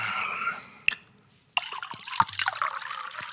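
Homemade arrack liquor poured into a glass, a thin trickling stream that pauses, then resumes more fully, with a few small knocks of the bottle or glass.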